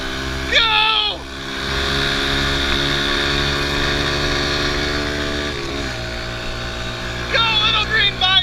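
A Kawasaki KLX 110 dirt bike engine runs at night with a steady droning hum that shifts pitch as it moves, heard from nearby while people shout and talk over it.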